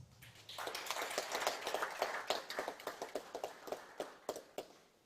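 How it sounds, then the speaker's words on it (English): A round of applause at a youth democracy forum, small and faint, with a few hands clapping unevenly that swell briefly then thin into scattered individual claps. "Let's give another round of applause"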